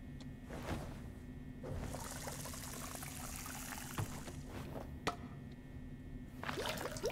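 Water pouring steadily in Crime Scene Cleaner, a continuous trickling stream with splashes and a few sharp knocks and clicks over a low hum, at moderate volume.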